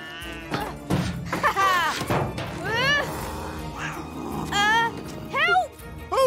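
Cartoon cat meowing in a children's animated scene, several rising mewing calls amid background music, voices and a few thumps, moderately loud.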